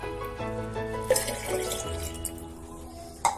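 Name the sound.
water poured into a bottle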